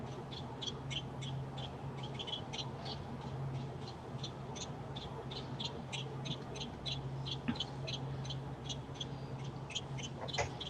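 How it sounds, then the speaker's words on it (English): A bird repeats a rapid series of short, sharp calls over a steady background hum, the notes continuing in an even stream for about ten seconds without speech. "This bird is like tripping me out."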